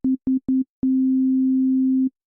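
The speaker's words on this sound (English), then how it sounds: "even by having just an operator default set to a sine wave" Synthesizer operator playing a default pure sine wave: three short low beeps in quick succession, then one long sustained tone, clean and steady with silence between notes and no talk.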